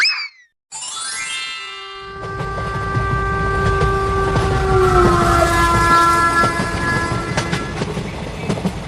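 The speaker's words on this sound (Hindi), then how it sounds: "चिंटू बेटा चलती हुई ट्रेन से बाहर हाथ नहीं निकालना चाहिए" A moving passenger train heard from inside, with a steady loud rumble and rattle of the carriages, chiming bell-like tones and a horn-like sustained pitch sliding downward, after a short burst of sound at the start.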